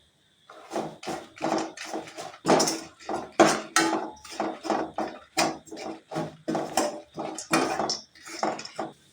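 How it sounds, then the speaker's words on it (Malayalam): Dried red chillies and curry leaves fry in a pan for temple-style chutney while a spoon stirs them, making a steady series of loud, rhythmic scraping knocks with a frying sizzle underneath and no speech. "ഇനി കുറച്ച് കറിവേപ്പിലയിട്ട് ഇളക്കി കൊടുക്കാം."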